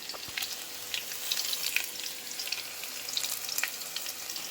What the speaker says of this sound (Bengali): এবার ডিমটা ভাজি